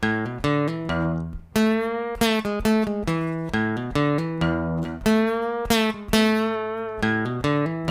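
A guitar plays a slow, deliberate riff, each picked note ringing clearly and distinctly in a repeating melodic pattern with no voices.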